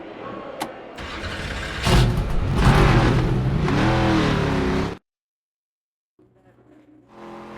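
NASCAR race car engine in the game NASCAR 25, a loud start and rising rev with throaty roar for several seconds, cutting to silence before a faint rumble returns.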